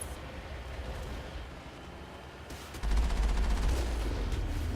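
Heavy cannon fire in the Mass Effect video game, a dense rumbling barrage that grows louder and more intense partway through, steady and continuous without speech.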